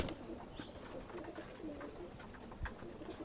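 A male Jungli breed pigeon coos close by, with soft, low, throaty calls repeating through a few seconds and faint background noise around them.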